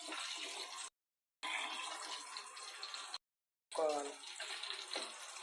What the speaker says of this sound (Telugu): మిల్ మేకర్ టమాటా కర్రీ కోసం లోటాలు వాటర్ పోసుకున్నాం